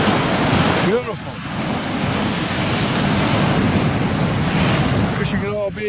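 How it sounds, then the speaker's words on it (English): Ocean surf at Peggy's Cove breaks against coastal rocks in a steady, loud wash of roaring water, with wind buffeting the microphone and larger surges swelling near the start and again near the end. "Every so often the waves come in big."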